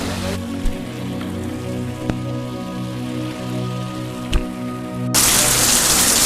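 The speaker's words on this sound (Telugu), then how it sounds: "ఘోరంగా వాన పడుతుంది ఎర్లీ మార్నింగ్." Heavy early morning rain near the beach at Rameshwaram makes a steady, dense patter with a few sharper drops, then turns into a much louder, harder roar near the end.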